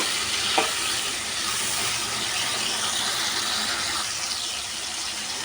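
Onions fry in hot oil for an Andhra-style tamarind chutney, giving a steady, close, loud sizzle that holds unbroken throughout, with a faint scrape of stirring near the start.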